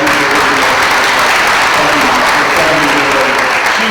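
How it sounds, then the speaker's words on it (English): A large school audience applauds steadily and loudly throughout, a dense continuous wash of clapping with some crowd noise mixed in. "Can you give her a round of applause for that?"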